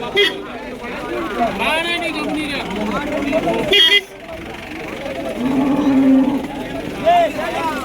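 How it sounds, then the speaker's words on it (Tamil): A cow with her calf lows at a busy cattle market in Vaniyambadi, with several drawn-out moos and a vehicle horn amid people talking nearby. "இங்கேயும் பார்த்தீங்கன்னா ஒரு பசுமாடு ஒரு கண்ணுக்குட்டியோட கொண்டு வந்திருக்காங்க"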